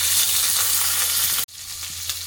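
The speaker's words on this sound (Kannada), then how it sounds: "ಸ್ವಲ್ಪ ಎಣ್ಣೆ ಹಾಕ್ತಾ ಇದ್ದೀನಿ. 1 ಸ್ಪೂನ್ ಸಾಸಿವೆ, ಸ್ವಲ್ಪ ಇಂಗು, ಹಾಗೆ ಈರುಳ್ಳಿ ಹಾಕ್ತಾ ಇದ್ದೀನಿ." Mustard seeds, asafoetida and onion go into hot oil in a pressure cooker for drumstick sambar, giving a loud, steady close-up sizzle that briefly dips midway before frying on.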